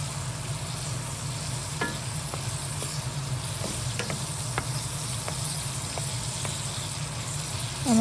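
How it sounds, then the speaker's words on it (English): Tomato, onion, garlic and wiri pepper sautéing in a pot, a steady close sizzle over a low background hum with scattered clicks of stirring, no voices. "And you're gonna let that saute for maybe 2-3 minutes."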